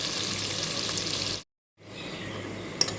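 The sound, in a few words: onions frying in a pan with mustard seeds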